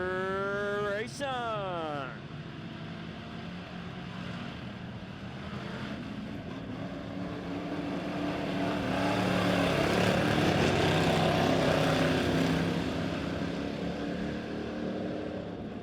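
Pure stock race cars roaring around Lebanon Midway Speedway under the lights at the start of a heat race, engine drone swelling and fading as the pack passes, beneath a commentator's voice, after a brief rising tone at the start.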